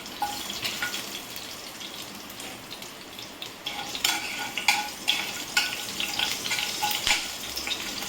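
Asafoetida and green chillies hitting hot oil in a pan, a continuous close sizzle with occasional sharper crackles and spatters rising toward the end, heard alone.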